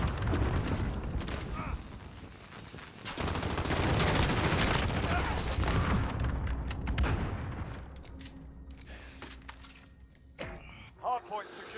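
Rapid bursts of M4 automatic gunfire in Call of Duty Blackout, loud and dense with sharp impact crackle throughout, thinning out near the end with a few isolated shots.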